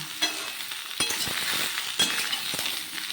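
Chopped ridge gourd fries in a pan with a soft, steady sizzle while a spatula stirs it, giving light scraping and clinking knocks at intervals, close and moderately quiet with no voices.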